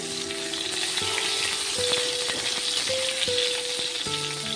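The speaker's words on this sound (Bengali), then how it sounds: "পটল ভাজা চাপিয়ে দিয়েছে দেখো" Slices of pointed gourd fry in a cracked wok, giving a steady close sizzle broken by occasional clinks and stirring, with no one speaking.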